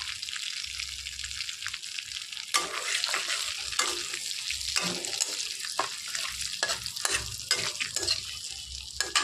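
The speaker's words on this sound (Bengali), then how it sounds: "তেলের মধ্যে আমি দিয়ে দিচ্ছি গোটা জিরে, দিয়ে দিলাম 3টে শুকনো লঙ্কা, দিয়ে দিলাম 2টো তেজপাতা।" Whole cumin, three dried chillies and two bay leaves sizzle in hot oil, a faint crackle at first that turns into busier spattering with clinks and stirring taps, and no voices.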